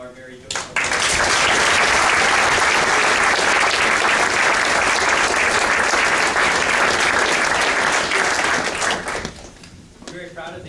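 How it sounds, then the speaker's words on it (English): Audience applause at an award ceremony, a dense sustained burst of many hands clapping that rises suddenly, holds for about eight seconds, then fades out. "If you could join me in one final round of applause"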